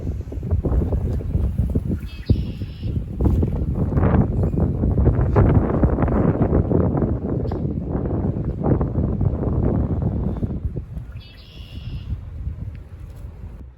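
Steady wind buffets the microphone, a continuous low rumble with gusting swells, with brief higher chirps near the start and end.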